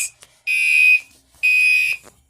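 A fire alarm sounds two loud, shrill electronic tones, each about half a second long, separated by a short silence, close and alone with no talk.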